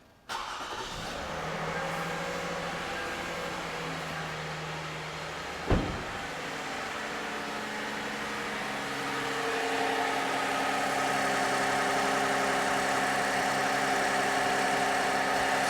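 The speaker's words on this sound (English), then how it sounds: "I'm going to start this engine and let's listen to it." A cold Toyota engine cranks and fires, then settles into a smooth, quiet idle that holds steady and slightly steps up near the end, heard close with no talking.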